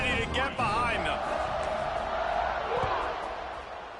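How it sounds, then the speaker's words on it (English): Football stadium crowd noise at a kickoff after an extra point, a broad steady roar filling the whole clip with brief whoops and shouts near the start, slowly easing toward the end. "this crowd now ready to get behind them"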